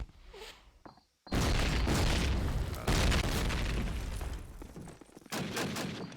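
A grenade bursts in Call of Duty: United Offensive during a competitive match, a sudden loud blast after a short silence, followed by a long noisy rumble with more booms and crackling gunfire on top.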